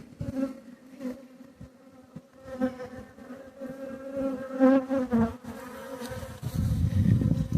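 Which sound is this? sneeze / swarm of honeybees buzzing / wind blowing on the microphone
swarm of honeybees buzzing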